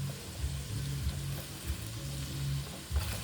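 A whole head of cabbage frying and being stirred in a large pan, a soft continuous sizzle with low scraping and bumping from the stirring, fairly quiet and without talk.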